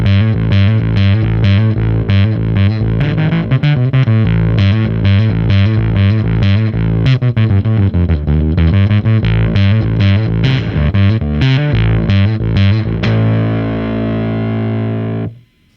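Synth played through a KHDK and Dark Matter Coffee Unicorn Blood fuzz pedal, loud and buzzy with rapid rhythmic chopped notes and a thick distorted tone, then a held chord that cuts off sharply at the end.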